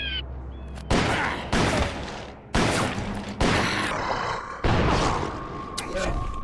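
Gunfire in the video game Call of Juarez, with five or six loud, sharp shots spaced about a second apart, each leaving a ringing echo, while a person talks underneath.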